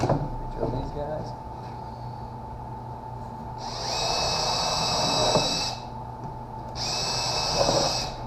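Two bursts of a high-pitched power drill whirring into wood while building shop shelves, each lasting about two seconds, separated by quieter background noise and handling sounds.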